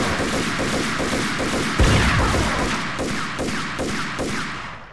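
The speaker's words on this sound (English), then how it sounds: "They're just shooting to me." Rapid bursts of gunfire in the Max Payne video game, loud overlapping shots fired in quick rhythmic volleys with a heavier boom midway, continuing steadily throughout.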